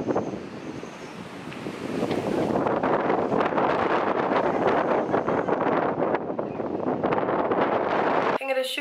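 Strong wind buffets the microphone aboard a boat, a loud continuous roaring rumble that runs the whole time, with voices faintly buried underneath.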